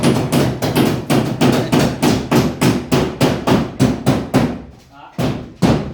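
Hammer blows ring out in a fast, even rhythm, about a dozen loud close strikes in a row before a short pause and two more hits.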